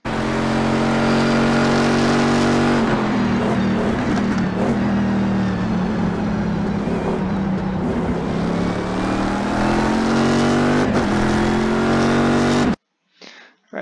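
Chevrolet Corvette C6R race car engine at Mid-Ohio in the iRacing sim, a loud, steady high-revving drone with harmonic bands that dips and climbs through gear changes for about twelve seconds before cutting off abruptly.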